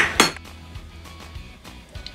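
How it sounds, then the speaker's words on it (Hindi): A sharp clink of a utensil against a bowl, followed by softer scraping and tapping as dhokla batter ingredients are stirred, with no voices. "अब हम इन सब चीज़ों को डालकर अच्छी तरह से मिक्स कर लेना है।"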